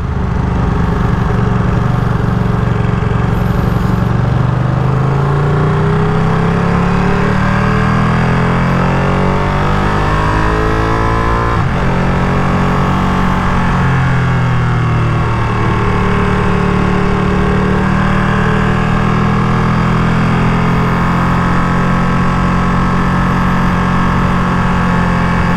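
A brand-new 2023 limited edition Ducati Panigale V2 runs steadily while ridden, its engine note rising and falling through gear changes, loud and close with constant wind rush and no talking.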